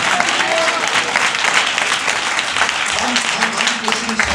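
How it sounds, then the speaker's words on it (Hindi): Worshippers at a church service clap loudly for Jesus Christ, a dense, sustained burst of applause with crowd voices mixed in. "यीशु मसीह के लिए जोरदार तालियां दें"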